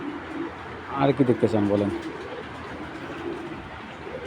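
Large foreign racing pigeons cooing in low, rounded bursts close by, with someone talking over and around them.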